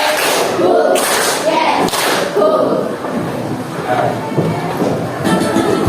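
Children in a primary school classroom clap together in counted rhythm, with loud groups of sharp claps in bursts under a busy, noisy room and some speech.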